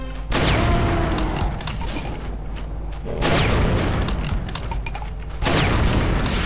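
Three heavy gunshot blasts from Brutal Doom Eternal running in GZDoom, each a loud boom with a long rumbling tail, spaced about three seconds apart.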